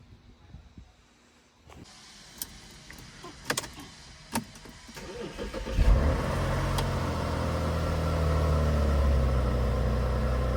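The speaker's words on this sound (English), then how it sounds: "Okay, so the car started." A few clicks and mechanical clunks, then a 2008 Audi A6 engine, jump-started from a booster after a dead battery, cranks and fires up, settling into a steady, rumbling idle.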